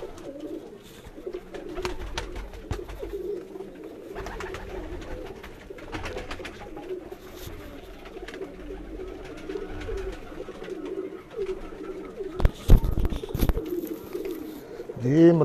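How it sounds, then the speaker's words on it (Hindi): Golden pigeons on a rooftop loft give soft, repeated cooing in rhythmic bursts, with some flapping and scuffling, while people talk nearby. "ये गोल्डन कबूतर,"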